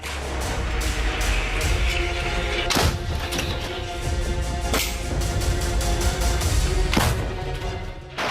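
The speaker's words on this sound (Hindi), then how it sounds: "तोपें भी उगलती रही आग" Artillery cannons fire in the Russia–Ukraine war. Several heavy booms crack out at irregular intervals over a constant loud rumble, with fainter blasts scattered between them.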